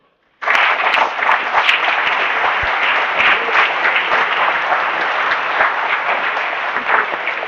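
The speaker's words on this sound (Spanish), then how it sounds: "El aplauso para él." An indoor audience at a tribute to international handball players from Asturias bursts into sustained, dense clapping that starts abruptly and holds steady and loud throughout.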